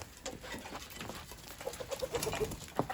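Short clucks and soft cooing calls from a few chickens nearby after feeding, scattered irregularly over light background rustle.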